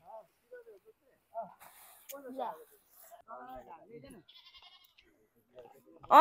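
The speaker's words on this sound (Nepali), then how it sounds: "यो यत्रो लामखाने खसी उफ्रिरहेछ त त्यो" A goat bleats in short wavering calls at a rural homestead in Khotang, Nepal, mixed in among people chatting nearby.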